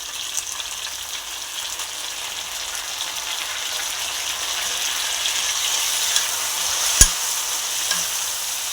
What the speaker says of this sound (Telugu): ఇవన్నీ బాగా వేగనిద్దామండి.